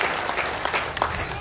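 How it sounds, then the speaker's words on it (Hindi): Audience at a political rally in Bihar applauds, a brief dense burst of clapping from a large crowd, loud and steady with no pause. "ताली बजाने का समय अब है"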